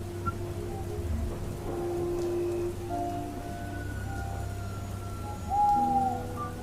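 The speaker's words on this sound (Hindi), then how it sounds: "बारिश अब भी जारी थी" Steady rain hisses in the background with low rumbling thunder in a jungle, while tonal hoot-like notes and a brief rising whine sound over it.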